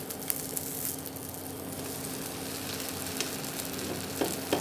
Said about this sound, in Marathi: आता आपण हा डोसा उलटा करूया.